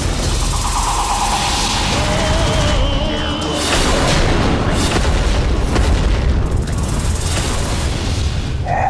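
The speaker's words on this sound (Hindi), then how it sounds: "ऐसा विनाशक विस्फोट इन देवियों को हताश करेगा।" Destructive explosion effect in a mythological TV drama: a loud, sustained booming rumble with crashing debris and layered whooshes, continuous and dense from start to end.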